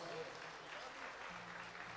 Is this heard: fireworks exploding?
no